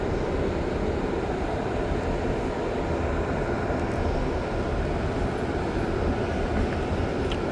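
Steady low rumble of a Deux-Montagnes commuter test train accelerating along the tracks near Brossard Station, a continuous droning roar with faint rattling, heard from inside without speech.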